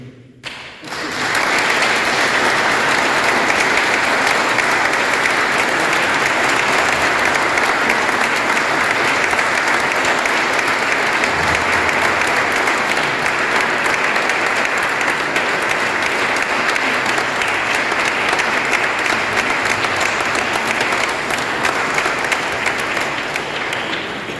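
Sustained applause from a concert audience at an evening concert fills the hall. The dense clapping stays loud and steady for over twenty seconds without letting up.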